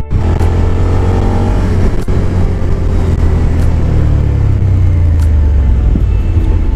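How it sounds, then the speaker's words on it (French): A Suzuki SV650 (2018, A2-restricted) motorcycle engine rumbles up close, its pitch dropping as the bike brakes and slows down. "On va bien tester les freins."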